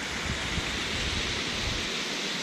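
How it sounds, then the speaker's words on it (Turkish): A small waterfall on a mountain hiking trail near Aschau on the Kampenwand sends up a steady, dense rushing hiss, unbroken and fairly close, with no voices over it. "Buradan aşağı doğru baktığımızda da şurada yine küçük bir şelale var."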